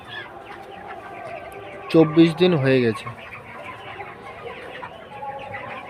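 Broiler chickens about 24 days old on a poultry farm of some 1800 birds cluck and chatter close by, with one loud burst of clucking in the middle, while someone talks over the flock.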